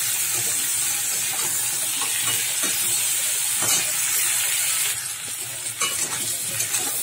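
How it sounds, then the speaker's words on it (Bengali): Crabs fry lightly in hot oil, a steady loud sizzle and hiss with occasional stirring clatter, continuous throughout with no talking. "তেল গরম হয়ে গেছে, এবার আমি ক্যাঁকড়াগুলো দিয়ে দিচ্ছি। ক্যাঁকড়াগুলো হালকা করে ভেজে নেবো আমি।"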